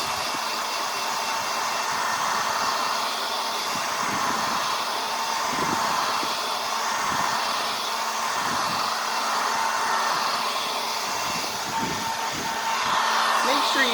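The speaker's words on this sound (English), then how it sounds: "we're going to use our hair dryer again to speed up the drying" A hair dryer blows a steady, continuous whoosh over freshly painted rocks, holding an even roar for the whole stretch, with soft intermittent knocks and handling sounds underneath.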